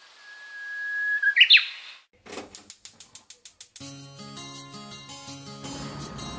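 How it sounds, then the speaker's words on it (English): Japanese bush warbler song, a clear whistled note that rises into a quick flourish, loud and close. It is followed by a run of rhythmic clicks and then soft music. "I like their bird song."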